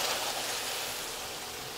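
Water pours into a pan of cooking raw mango chutney, a soft, steady hissing rush that fades gradually, heard alone without talk.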